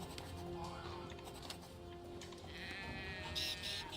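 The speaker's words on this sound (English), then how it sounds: "So there's a sheep here." In the video game Drova: Forsaken Kin, a sheep bleats a few times, a wavering nasal call at moderate volume, set against low ambient game sound.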